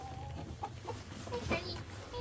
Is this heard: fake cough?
no